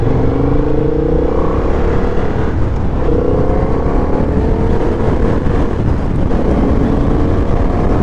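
A 2025 Honda CB750 Hornet motorcycle engine drones steadily while riding, with shifting engine tones as it downshifts, mixed with constant wind rush throughout.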